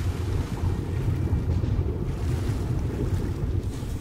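Sea water and waves in the game ARK Ascended, a steady rushing wash of surf and wind noise, full and continuous with no voices.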